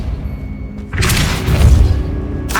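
A Depulso repelling spell cast in the video game Hogwarts Legacy, a sudden heavy whooshing burst with a low booming thud after a quiet room hum, trailing off before a second short burst.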